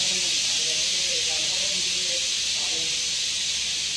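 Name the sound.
pressure cooker whistle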